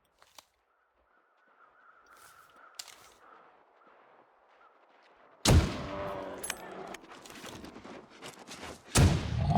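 A loud rifle shot at a bear in The Long Dark cracks out abruptly after a quiet stretch, its long rumbling tail still fading when a second sharp shot lands near the end.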